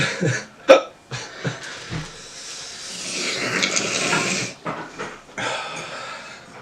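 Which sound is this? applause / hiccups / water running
hiccups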